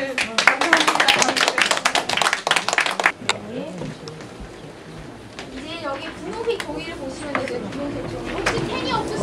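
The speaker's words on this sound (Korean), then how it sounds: "한번 박수를." Audience applause at an immigrant training session at an art and law center: several seconds of dense clapping from a room of people, then fading into murmured chatter and someone speaking.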